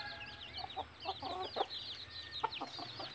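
A Talisayin fighting rooster clucks in a string of short, fairly faint calls over a quiet outdoor background.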